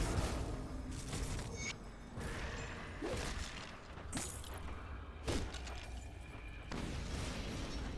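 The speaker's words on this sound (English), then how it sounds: "they're being hit by explosions from enemies quite badly" Repeated explosions from enemies in the Grim Dawn action role-playing game, a dense barrage of bursts, pops and crashes over rumbling combat noise, loud and continuous with no speech.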